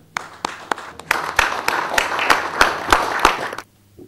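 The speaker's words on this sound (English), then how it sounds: "Let us welcome him with a round of applause." At a media talk in Colombo, a small audience claps to welcome speaker Jacob Mathew: sparse, distinct sharp claps building into a modest round of applause, then stopping abruptly near the end.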